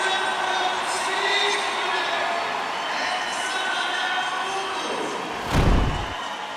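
Spectators at an SLS street skateboarding contest in Brazil make a steady, roaring crowd noise during a rail trick, and a heavy board thud lands near the end.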